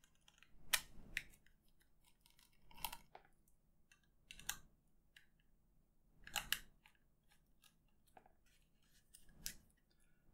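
Screws being removed from a ThinkPad T430 laptop drive, heard as a series of short, quiet metallic clicks and scrapes in separate bursts about every two seconds, close up and with no talking.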